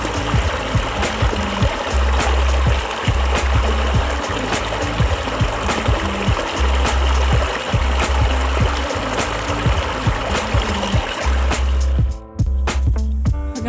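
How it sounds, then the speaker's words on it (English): Water trickles steadily while drinking water is filtered beside a trail on the Colorado Trail, an exposed, hot meadow valley; a continuous close dribbling wash with a pause near the end. "Filtering some water."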